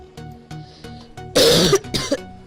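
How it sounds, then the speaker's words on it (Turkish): A person coughs hard twice in quick succession, loud and close, after a stretch of quiet background sounds. "Arkadaşlar öksürüyorum gerçekten kusura bakmayın"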